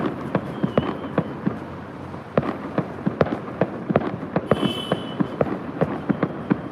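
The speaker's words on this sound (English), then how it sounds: "but here in China we do have a few fireworks" Rapid irregular firecracker bangs go off in quick clusters in China, sharp and fairly close, with a brief whistle midway and no voices.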